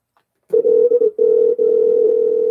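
Ringback tone of an outgoing telephone call, a loud steady electronic hum sounding continuously with a few brief breaks, alone with no voices.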